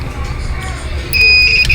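A steady high electronic beep starts partway through and holds for about half a second, a short multimeter continuity-tester buzz checking a fuse, over low room noise.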